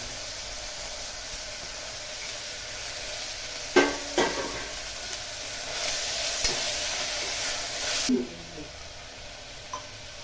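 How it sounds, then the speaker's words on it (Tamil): Crushed ginger, garlic and green chilli sautéing in oil for coconut milk biryani, a soft steady hiss with a couple of scraping stirs midway, the sizzle dropping away abruptly near the end. "இஞ்சி பூண்டு பச்சை மிளகாய் நம்ம லேசாக அம்மியில் கொஞ்சமாக தட்டி இருக்கேன் அதையும் இது மாதிரி சேர்த்து வதக்கி"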